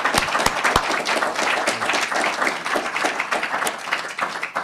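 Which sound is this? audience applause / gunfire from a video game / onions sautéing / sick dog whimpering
audience applause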